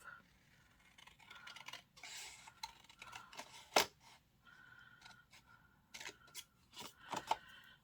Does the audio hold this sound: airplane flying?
no